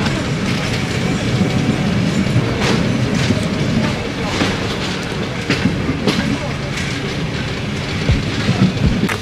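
A historic tourist train runs along a disused line between Police and Trzebież, its wheels clattering steadily over the rails in a loud, continuous rumble with rhythmic clicks, while faint voices talk inside the carriage.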